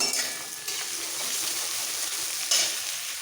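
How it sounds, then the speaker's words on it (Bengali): Onions sizzle and crackle steadily in a hot pan, a close, even frying hiss with a brief stirring clink near the end. "এবার পেঁয়াজটা হালকা ভাজবো"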